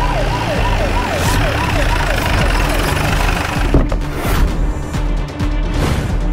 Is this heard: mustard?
no